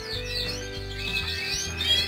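Young cage birds chirp in a continuous, thin, close twittering with no voices, while chicks are handled during a move from cages to flight aviaries.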